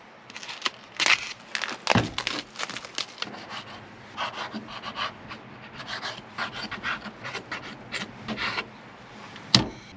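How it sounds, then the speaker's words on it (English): Knife cutting meat into smaller strips at a campsite, a run of soft scraping and rubbing strokes with irregular rhythm, close by, with a sharper knock or two against the board. "what we're gonna do with the meat is cut these into smaller strips"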